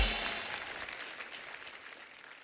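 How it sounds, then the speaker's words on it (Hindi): Audience applause on the stage of a televised comedy competition, India's Laughter Champion, a dense burst of clapping that is loudest at the start and then gradually tapers off. "इनके लिए एक बार जोरदार तालियां"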